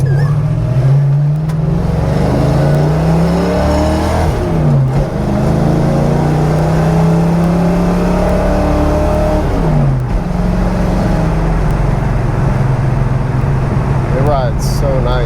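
A 1968 Ford Mustang on coilovers accelerates, heard from inside the car: a loud engine drone whose revs climb and drop through gear changes, with a person talking over it.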